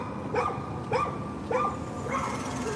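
A puppy barks four times in a steady rhythm, each a short, high, yelping bark, moderately close over a constant background hum of a busy space.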